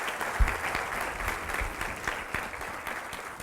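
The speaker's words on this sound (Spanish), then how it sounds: "Dele un aplauso al Rey de Reyes y Señor de Señores." Applause at a Spanish-language church service in praise of Jesus: a congregation claps steadily and fairly close for the full stretch, with a few sharper individual claps and no speech over it.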